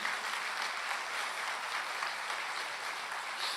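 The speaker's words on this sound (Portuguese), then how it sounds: "Dá uma salva de palmas para Jesus" Church congregation clapping steadily throughout, a dense, even wash of applause with no break and no voices standing out.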